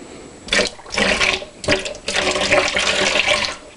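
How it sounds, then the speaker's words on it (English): Water gurgling and glugging out of an upside-down bottle dispenser as air bubbles up inside it, coming in loud, close bursts with short pauses between them. "it lets some air up inside of this bottle and the water back down"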